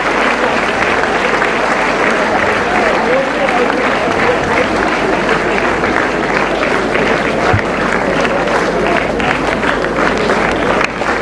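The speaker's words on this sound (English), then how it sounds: "please rise and give a round of applause to your judges" A debate final audience breaks into sustained applause for the seven-member judging panel, a dense, steady wash of clapping that fills the whole stretch at an even, loud level.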